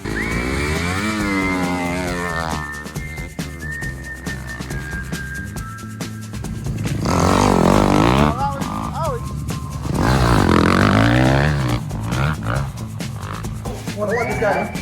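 Dirt bikes riding laps at an indoor Arenacross practice, engines revving up and down in rising and falling whines, loud and close, with people talking over them.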